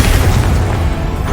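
Confringo fire-blast spell in Hogwarts Legacy, a loud, dense booming explosion that stays strong through the whole short burst, with no talking over it.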